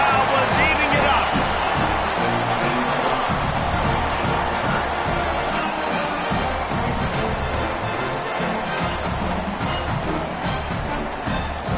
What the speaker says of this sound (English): this crowd was eating it up